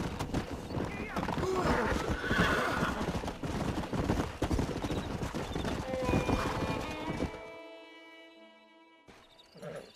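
Horses in the Red Dead Redemption video game whinny and clop their hooves amid a busy, loud mix of sounds, with voices talking alongside, before the din thins out into a quieter musical tail.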